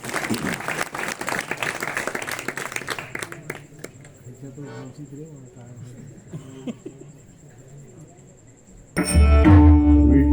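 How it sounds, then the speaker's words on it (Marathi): An audience at a bhajan singing contest claps for the singer, a loud burst of applause for the first few seconds that fades into scattered claps and murmuring, before louder music or drumming cuts in at the end. "एकदा टाळ्या वाजवा त्याच्यासाठी. टाळ्या वाजवा."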